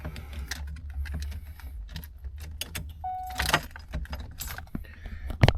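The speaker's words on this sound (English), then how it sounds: "Let me grab the keys." A set of car keys for a 1989 Ford Mustang GT convertible being picked up, jangling in several bright, close bursts over a low rumble, with no talking.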